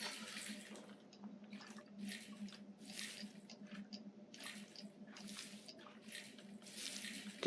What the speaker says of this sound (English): Good technique to getting most of the dirt off is keep dunking.